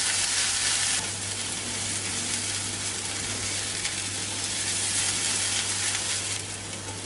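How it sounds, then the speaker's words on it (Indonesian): Ground spice paste sautés in a pan for a beef bone soup, giving a steady, close sizzle and crackle of frying with faint stirring, constant throughout and with no talking. "kita akan tumis bumbunya sampai benar-benar wangi banget dan nanti berubah warna kecoklatan"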